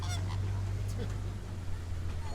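Greater flamingos honking at Disney's Animal Kingdom, a few goose-like calls over a steady low hum, moderately near.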